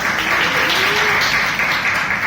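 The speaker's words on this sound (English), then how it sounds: "So please give him a big round of applause" Audience at a Toastmasters meeting applauding, steady continuous clapping from a room full of people, fairly close and without talk.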